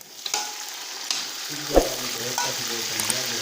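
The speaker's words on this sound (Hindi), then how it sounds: "1-2 मिनट इनको फ्राई करेंगे" Chicken karahi ingredients fry in a pan with a steady close sizzle, broken by a few sharp scrapes and clinks of a stirring spoon against the metal.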